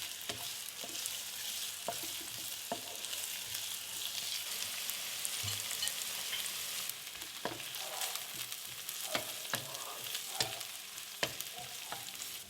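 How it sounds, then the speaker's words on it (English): Sliced onions stir-fry in hot oil on a low flame, a quiet, even sizzle with scattered light clicks and taps of a stirring spoon. "Once hot, add your sliced onions. Stir fry it on a low flame until it turns translucent."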